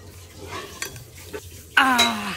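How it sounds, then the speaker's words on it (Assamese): Chopped vegetables are tipped into a hot pot and stirred, soft scraping and clinks giving way to a sudden loud sizzle near the end. "এই কাটি থোৱা পাচলিখিনি মই এতিয়া ইয়াতে দি দিম"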